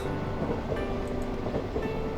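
A train running on rails in the visual novel White Album 2, a steady rumbling ride with faint rhythmic clatter, moderately quiet and continuous with no voices.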